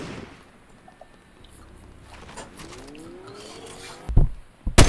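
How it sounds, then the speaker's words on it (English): Sniper rifle shots ring out in a first-person shooter match, a few sharp cracks with ringing tails, the loudest two bursting near the end over quieter background game noise. "Yes, I hear the sniper."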